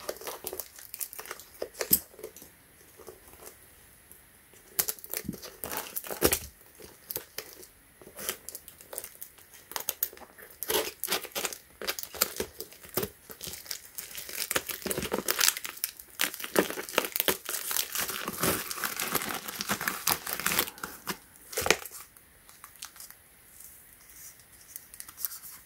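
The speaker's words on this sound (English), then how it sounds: "let's go ahead and unbox or unwrap this and show you guys what it look like" A high-capacity 2680mAh replacement battery for an iPhone 5C/5S is unwrapped, with close, quiet crinkling of plastic packaging, tearing and rustling in irregular bursts.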